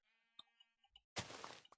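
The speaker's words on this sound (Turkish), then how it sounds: "Burada bol koyun var." A few short, quiet Minecraft sheep bleats with a clicky, synthetic quality, followed by a burst of noisy rustle and a final click.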